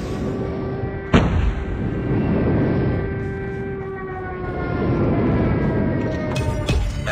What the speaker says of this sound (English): Friendly airstrike incoming.